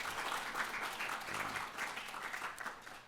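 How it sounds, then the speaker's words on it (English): An indoor audience gives a round of applause for a team at a commission event, steady dense clapping that carries evenly throughout with no break. "if we could just give Crystal and her team all the applause for everything they do"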